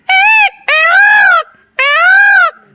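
A young man imitates a peacock's call with his voice: three long, loud, wailing cries, the first short and the next two drawn out, sharp and nasal, with brief silences between them.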